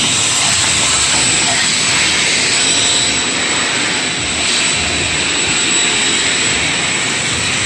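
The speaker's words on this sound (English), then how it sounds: "maybe vacuum out the coolant from the valley of the damn engine" A shop vacuum sucks coolant out of the valley of a 6.7 diesel engine, a loud, steady, close roaring hiss that holds constant throughout with a brief dip midway.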